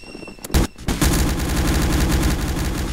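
Gunfire in the video game Garry's Mod: a couple of sharp loud shots, then a dense sustained burst of rapid automatic fire close by, with no talking.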